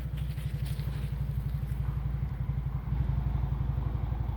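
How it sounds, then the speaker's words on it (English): A tractor engine runs close to a road in Minnesota, a steady low idling rumble with an even pulsing beat that continues unbroken throughout. "That's a tractor."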